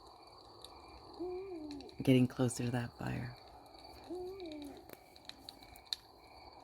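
An owl gives soft, low hoots at a distance, once before and once after someone speaks a short line close up, over a quiet background with faint crackling.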